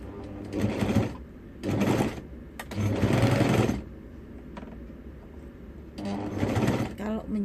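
A sewing machine stitches fabric for an accordion zipper in four bursts of about a second each, a steady whirring run separated by short pauses, close and clear.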